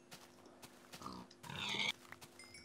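A pig oinks twice in Minecraft, with a short grunt near the middle and then a louder, longer squeal. The calls sound faint and sit over a quiet game background.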